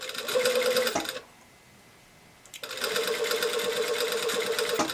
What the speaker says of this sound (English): I'm just going to pull that in and sew and let my presser feet do the easing